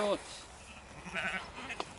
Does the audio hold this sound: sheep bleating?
yes